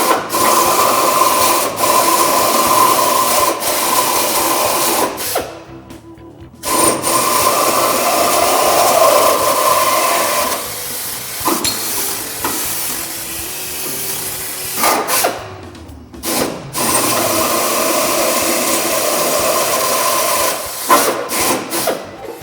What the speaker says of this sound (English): What I'm doing here is I'm drilling out all the spot welds.